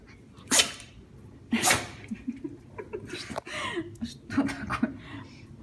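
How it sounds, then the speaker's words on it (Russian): A Shih Tzu dog sneezes twice in sharp, close bursts early on, followed by snuffling and small snorts, with a person talking intermittently in the background. "Ни с того ни с сего начал чихать."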